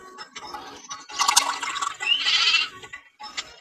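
A goat in a video game gives several bleats, the loudest and longest in the middle, with short gaps between them and no talk over the calls.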